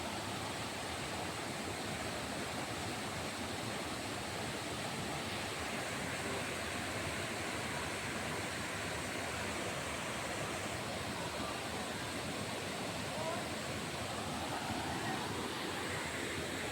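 Kurdhe river water flowing, a steady broadband rush with no breaks, continuous and fairly even across the whole stretch with no clear voices over it.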